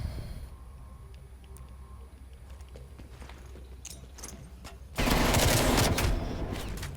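Gunfire in Call of Duty Cold War: quiet scattered shots and footsteps, then a sudden loud burst of firing that keeps going to the end, without any talking.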